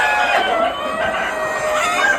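Pure Sonali chickens at a Pune hatchery cluck and call together in a busy, continuous chorus, loud and close, with overlapping calls and no talk over them.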